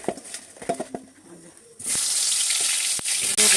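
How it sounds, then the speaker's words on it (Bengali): Eggplant pieces coated in turmeric and salt drop into hot oil for a Bengali dish, bursting into a loud, steady hiss of frying after a few quiet clicks and taps, with a brief break near the end. "এখন এই বেগুন ভেজে কলই শাক রান্না করব"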